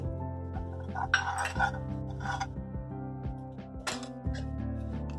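A metal spoon clinks and taps against a pan while ghee is added to fry khoa (mawa) for modaks, several bright clinks in an irregular sequence over a steady sizzling background.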